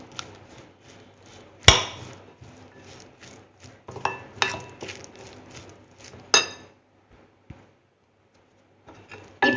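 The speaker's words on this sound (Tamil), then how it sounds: "இதெல்லாம் சேர்த்துட்டு நம்ம என்ன பண்ணலாம் அப்படினா நல்லா மிக்ஸ் பண்ணி விட்டுறலாம்" Okra is tossed with curd and spices in a bowl, giving soft wet stirring and scraping with sharp clinks of a spoon against the bowl, irregular and close, in short bursts separated by pauses.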